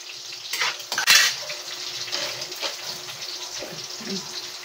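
Onion dropped into a hot pan for a pork dish, with a sharp burst of clatter and sizzle at the start, then steady close frying hiss and occasional utensil knocks.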